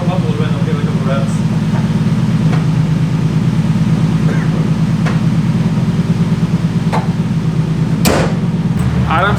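A Nissan 350Z fitted with an aftermarket exhaust and stacked silencers idles loudly and steadily, its deep rumble continuous throughout, with a brief sharper burst of engine noise near the end.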